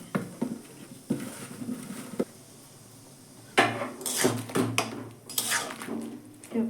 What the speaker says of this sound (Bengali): আলুটাতে আমি নুন হলুদ কাশ্মীরি লঙ্কার গুঁড়ো মাখিয়ে দিচ্ছি